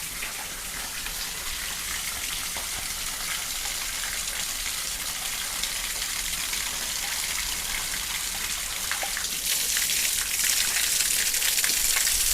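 Muddy water flushing out of a pipe before a water filter is connected, a continuous hissing gush with spattering and trickling, steady and close, swelling slightly louder near the end.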